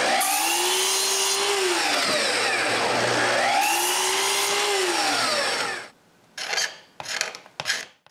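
Hand-cutting the bottoms of small wooden boxes: a loud, continuous rasping saw stroke fills most of the clip, then gives way to a few short scraping bursts at the end.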